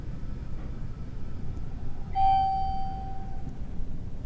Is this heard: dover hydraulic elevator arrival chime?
yes